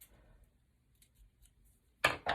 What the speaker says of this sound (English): So I'm gonna cut this, round it off, cut the excess pieces off